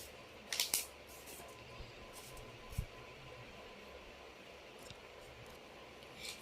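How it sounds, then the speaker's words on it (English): Scissors cut through colour paper for a paper craft, giving a few brief, quiet snips that stand out from a faint, steady room hiss. "So you're gonna cut with your scissors just till here"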